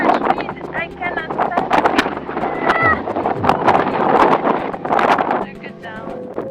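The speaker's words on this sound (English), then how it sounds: "So much wind, I cannot" Strong coastal wind buffets the microphone on the Costa da Morte in Galicia near a lighthouse, a loud continuous rumble that gusts and swells while a voice talks over it.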